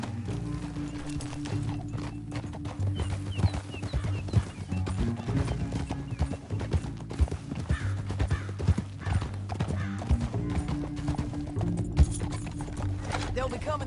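Horse hooves clip-clop at a steady gallop in Red Dead Redemption 2, a continuous rhythmic beat beneath a low droning score, with a voice talking at times over the hoofbeats.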